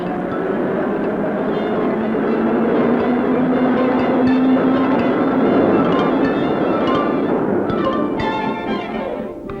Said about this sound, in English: and subway wheels.